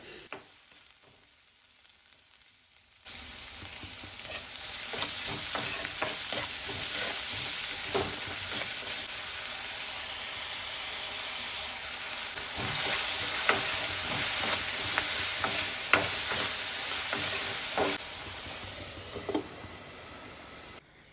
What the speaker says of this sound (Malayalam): ആ ഒരു സവോളയും കൂടി ഇട്ട് കൊടുത്തിട്ടൊന്ന് വഴറ്റി കൊടുക്കുന്നുണ്ട്